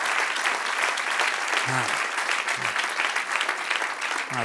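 Continuous, loud applause from a church congregation fills the space during a Spanish-language service, dense and unbroken, with brief vocal exclamations rising over it a few times.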